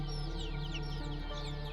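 Month-old native chicks give soft, rapid overlapping peeps and clucks close by, in a short continuous burst with no voices.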